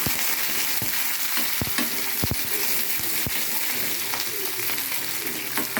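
Curry leaves and onion frying in hot tempering oil for a dal, a dense continuous sizzle with occasional sharp pops and spatula taps, close and steady.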